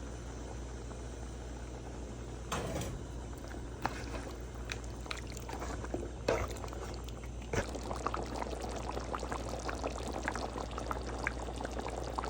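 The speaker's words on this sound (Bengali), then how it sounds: "মাংসটা কষানো হয়ে গেছে এখানে একটা পরিমাণ মতো গরম পানি দিয়ে দিচ্ছি" Hot water is poured into a pot of browned beef curry, a soft continuous splashing gush that runs steadily and fairly quietly for about twelve seconds.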